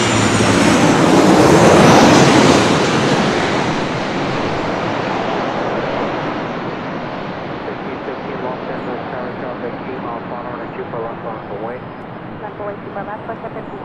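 A Southwest Airlines jet arriving, its loud roar peaking early and then fading into a long rumbling decay, with radio chatter heard faintly toward the end.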